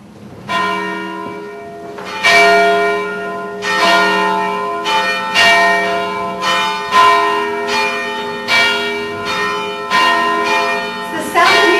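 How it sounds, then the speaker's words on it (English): Two church bells rung together by hand with ropes in a Richmond bell tower, sounding a series of loud, ringing strikes roughly every one and a half seconds, each leaving a long shimmering decay that overlaps the next. "And then with these ropes, you're doing both of the bells at the same time."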